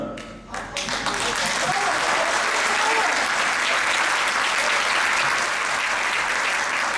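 Hall audience at a CHP Şile district party congress breaking into loud, steady, full applause after a brief voice, sustained evenly to the end.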